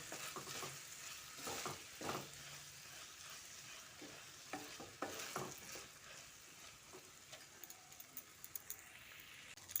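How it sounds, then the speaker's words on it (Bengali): Rice sautés with ghee in a pan for pulao, a faint continuous sizzle broken by repeated scraping stirs of a spoon against the pot. "ভালো করে কষিয়ে নিচ্ছি"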